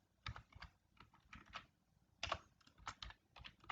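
Typing on a computer keyboard, a scattering of close, soft key clicks in short irregular bursts with quiet gaps between them.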